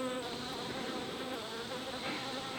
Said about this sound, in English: That one buzzing around me right now is doing pretty good.